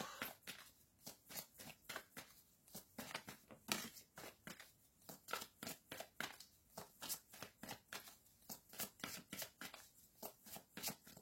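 Tarot cards handled and dealt at close range, a long run of soft papery flicks and slaps in an even, rapid rhythm with no speech.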